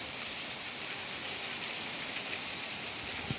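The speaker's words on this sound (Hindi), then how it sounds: "आज सुबह सुबह हमारे गांव में बहुत बारिश हो रहा है" Heavy morning rain falling in a village, a dense, even hiss of downpour that holds steady and continuous from start to finish, with no voices or other sounds standing out.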